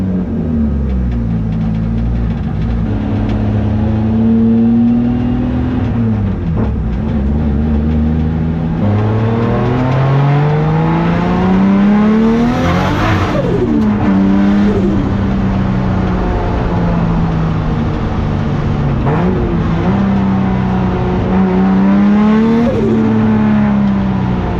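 A Nissan S14 Silvia fitted with an RB25 engine drifts on a track, its loud engine revving up and down through long sustained pulls, with repeated shifts and a continuous roar from close by.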